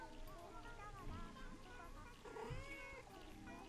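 A calico cat gives a short meow near the listener while a person talks softly around it, with faint background noise throughout.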